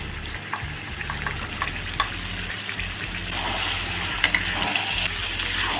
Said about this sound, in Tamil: சிக்கன் நல்லா வதக்கியாச்சு. இப்போ மசாலா போட்டுக்கலாம்.